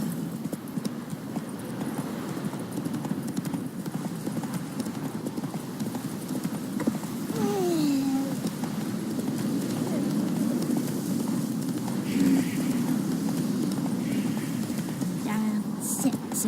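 A horse gallops in The Witcher 3 video game, its hooves drumming in a steady, close clip-clop rhythm throughout. A short whinny rises partway through, and voices speak over the hoofbeats.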